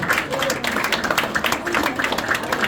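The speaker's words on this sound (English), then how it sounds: "A big round of applause for Mallory." An audience at a magic show in Nashville breaks into applause, many hands clapping in a dense, lively patter that carries on steadily.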